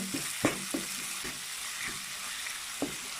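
Masala sautés in a pan for a prawn and raw plantain dish, giving a low steady sizzle broken by a few soft spoon scrapes and taps, with no one talking.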